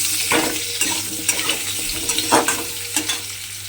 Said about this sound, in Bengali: আলুগুলোকেও কিন্তু আমাকে একটু লাল করে ভেজে নিতে হবে